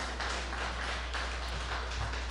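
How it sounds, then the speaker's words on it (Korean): Worshippers at a Sunday family service in a Korean church clap together in praise, a continuous, even wash of applause that stays steady throughout, with a low hum underneath. "하나님께 영광의 박수 올려드리십시다"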